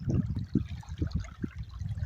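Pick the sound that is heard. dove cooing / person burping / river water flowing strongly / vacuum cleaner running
river water flowing strongly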